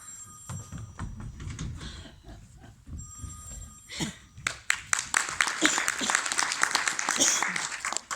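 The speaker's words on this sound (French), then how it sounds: "Madame! Madame! Téléphone!" A telephone bell rings in a stage play, a bright trilling ring heard near the start and again midway, followed by a burst of audience applause and clapping while a voice calls out.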